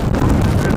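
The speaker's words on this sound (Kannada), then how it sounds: "ಏನ್ರಿ ಗಾಳಿ ಗಾಳಿ ಬೀಸ್ತಾ ಇದೆ ಇಲ್ಲಿ" Strong wind blasts across Mullayanagiri Peak in the Chikmagalur hills, buffeting the microphone with a loud, continuous low roar and gusty rumble throughout.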